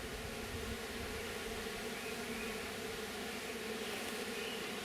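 Honeybees gathering at the entrance of a Layens hive at sunset give a steady, continuous buzzing hum that stays even and fairly faint throughout.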